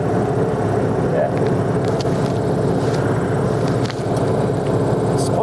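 A motor glider's engine and propeller drone loudly and steadily from inside the cockpit before takeoff, a constant buzzing rumble with faint clicks and shifts, and indistinct voices are partly audible under the noise.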